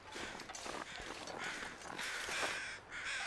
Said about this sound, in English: Where are you, crows?